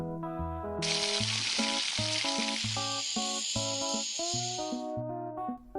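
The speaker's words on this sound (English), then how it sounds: "You can hear thousands of snakes rattling in one tent at the roundup." A dense, continuous sizzling hiss of thousands of massed rattlesnake rattles in one tent at a rattlesnake roundup in Sweetwater, steady and loud over low musical tones.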